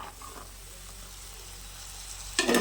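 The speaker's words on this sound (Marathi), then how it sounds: "तेलामध्ये सर्व मसाल्यांना तेल सुटल्यानंतर यामध्ये मी सोलून घेलेले सोलून घेतलेले पावट्याच्या बिया यामध्ये मी टाकणार आहे" Peeled fresh pavta beans are tipped into hot spiced oil, and a sudden loud sizzle bursts out near the end after a quiet stretch of soft frying hiss.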